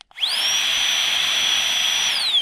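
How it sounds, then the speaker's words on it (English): A Flextailgear tiny pump whirs up quickly and runs steadily with a high, loud electric whine that holds constant, then begins winding down at the end. "But this is the Flextailgear tiny pump"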